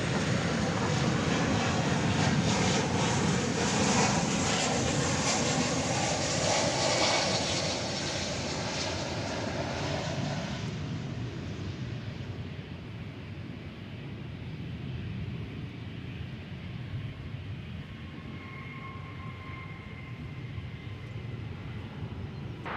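A Boeing 737-800 arriving at DFW from Minneapolis-St. Paul roars loudly for the first ten seconds, then fades to a steady, softer engine drone with a faint whine, with no voices over it.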